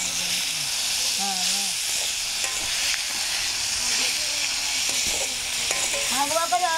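Prandai (veldt grape) sautés in a pan with a continuous close hiss and sizzle, while a person talks over it in short phrases throughout.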